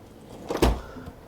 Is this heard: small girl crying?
no